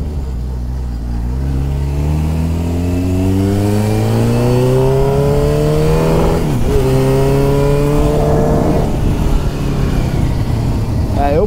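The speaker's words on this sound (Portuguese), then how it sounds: "Olha o Bel Air." A loud Chevrolet Bel Air engine rumbles steadily, rising in pitch as it accelerates, then dips and drops as it passes close by, continuing to drone afterward.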